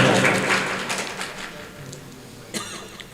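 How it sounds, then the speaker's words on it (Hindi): Audience clapping at a mushaira, an Urdu poetry recital, as a brief burst of applause from a crowd that quickly thins out into a few scattered claps. "ताली बजा दो यार, बहुत अच्छा शेर है।"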